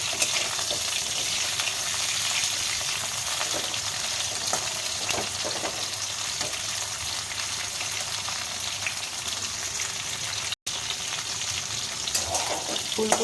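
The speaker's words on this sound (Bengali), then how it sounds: "এইভাবে সব সবজিগুলো ভেজে নেব" Mixed winter vegetables including cauliflower fry in a pan with a steady, dense sizzle and a few faint stirring clinks, close and continuous throughout.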